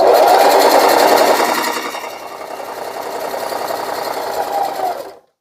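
Sewing machine stitching a fabric scrunchie tube runs steadily and close up, with a continuous fast whirring hum that eases slightly after the first second and stops abruptly near the end.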